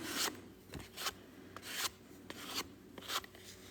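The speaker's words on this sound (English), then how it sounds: "I'm going to just scrape it this way now and then just leave it." Watercolor paint is scraped across paper in a series of short, rasping strokes at an uneven rhythm, close and quiet, with no speech.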